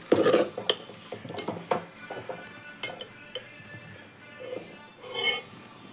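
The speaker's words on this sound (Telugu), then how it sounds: "వీడియోలో చూపిస్తున్నట్టు ముక్కలకి అంతా కలిసేటట్టు కలుపుకోవాలి" Fish pieces being mixed with chilli powder in a metal pot for tamarind pulusu, with a spoon scraping and clinking against the pot in irregular close strokes and faint sizzling beneath.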